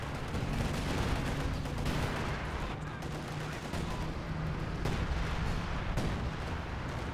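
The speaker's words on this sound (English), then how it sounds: "Did you put Searing Artillery down?" Sector artillery barrage in the video game Company of Heroes 2 lands as a steady run of muffled booms and gunfire at moderate level, with repeated impacts spread across the battlefield and players talking under it.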